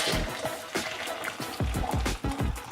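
Hot water from a Stanley Adventure camp cook set poured into a Wayfayrer camping food pouch, a close, steady splashing trickle with a few louder gurgling surges as the pouch fills.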